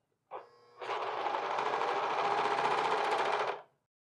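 A sewing machine stitches denim for a pair of jeans, a short burst of stitching followed by a pause, then a steady, fast mechanical chatter held for about three seconds before it stops.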